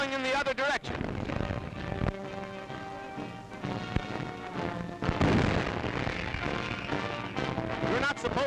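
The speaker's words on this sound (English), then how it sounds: "You're not supposed to jump that way when the big guns go off." Army big guns firing at Fort Story, heavy booming blasts with rumbling reverberation, several loud reports through the clip over a continuous roaring background with music-like tones.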